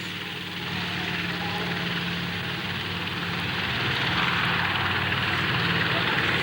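A B-25 bomber drones steadily overhead at the 1989 La Ferté-Alais air show, a loud continuous propeller engine roar that swells slightly toward the end.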